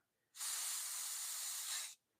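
An airbrush sprays in one steady, even hiss lasting over a second and a half, close by and alone without any voices.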